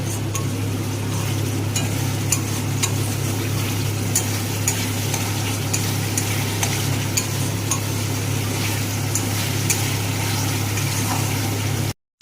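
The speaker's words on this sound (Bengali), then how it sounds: "এবার ভালো করে কষিয়ে নেব।" Spice paste with a little sugar stir-fried in a pan for a potato curry, giving a steady close sizzle with a low continuous hum underneath and scattered light scraping clicks, no voices.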